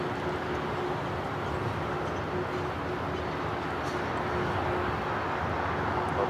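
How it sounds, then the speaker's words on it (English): Delta Airlines Airbus A350-900 taking off from LAX, a steady broadband jet roar with a faint tonal hum, constant in level and somewhat distant throughout. "This is Delta Airlines Flight 7 taking off to Tokyo Haneda on the A350-900."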